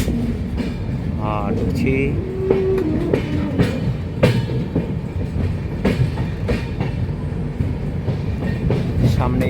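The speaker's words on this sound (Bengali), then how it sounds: "कामाख्या आनंद विहार ट्रेनটা দাঁড়িয়ে আছে।" The Kamakhya–Anand Vihar express sits at a station while train wheels clack rhythmically on rails nearby, with a short squeal and people talking over the rumble.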